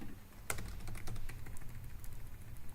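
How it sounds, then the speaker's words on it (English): Keys on a computer keyboard are typed in a quiet, irregular patter of light clicks, with one sharper keystroke near the start and softer taps after it. Nobody talks. "I have no idea what's going on with my typing today."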